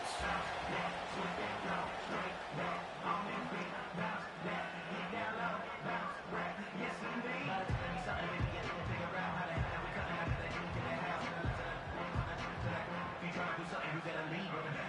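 A stadium crowd in an EA Sports football video game roars steadily, with cheering swelling and falling, while a commentator talks over it and rhythmic thumping joins in the second half.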